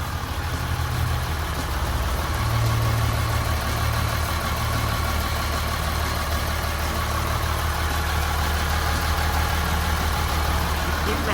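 A Caterpillar 924GZ wheel loader's diesel engine runs at a steady idle, a close, continuous low rumble with a constant mechanical hum throughout and no talk.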